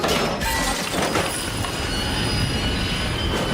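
Freight train rolling steadily past at close range, a continuous loud rumble with rail noise and wheel squeal filling the whole stretch.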